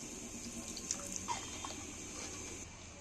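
Cold water pours steadily down the side of a cooking pot of spiced jackfruit and potato curry, a soft continuous splashing flow heard at moderate distance with no talking.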